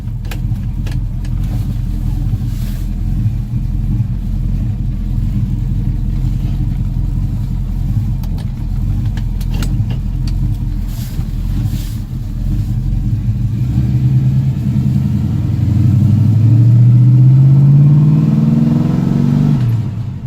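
A custom 1981 Chevrolet C10 streetrod driving, its engine a loud steady rumble heard from inside the cab, then revving and rising in pitch as it accelerates hard near the end.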